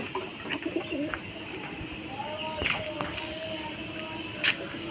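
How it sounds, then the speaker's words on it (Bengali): Pigeons coo softly nearby amid light rustling and a faint flutter as they are released and take flight, with low murmurs of people in the background. "এই পায়রাটাকেও ছেড়ে দিয়েছি এও উড়ে গেছে"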